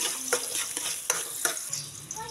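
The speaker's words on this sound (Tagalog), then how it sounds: "Talagyan na natin yung ating bawang at luya. Gisahin lang natin yung ating mga rekado." Garlic and ginger sauté in a hot pan with a crisp, constant sizzle, broken by quick scraping stirs of a utensil several times.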